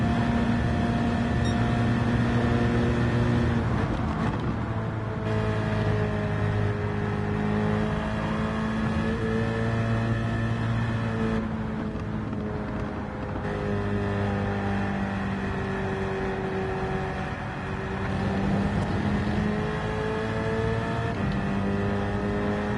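Race cars from the video game Gran Turismo 7 drone steadily with layered engine tones rising and falling through gear changes, a continuous loud whine with shifting pitch and no voices.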